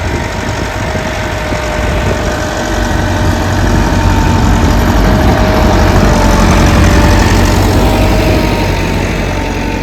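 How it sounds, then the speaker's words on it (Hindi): A Massey 385 tractor engine labours while pulling a plough through a field. A loud, close, continuous diesel drone with a low rumble rises slightly and holds steady throughout. "ये है नॉर्मल रेंज जिससे ट्रैक्टर खींच रहा है।"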